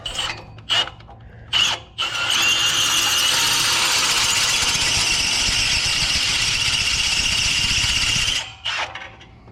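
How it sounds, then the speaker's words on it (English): A power drill boring a hole: a few short trigger bursts, then one long, loud continuous whine with grinding texture lasting about six seconds before spinning down, close up. "we're gonna drill this hole."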